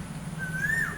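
An Asian koel calls from coconut trees, one rising whistled note that swells and then falls away, heard from a distance over a steady low hum, with no talking.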